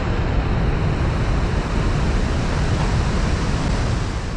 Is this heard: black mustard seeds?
no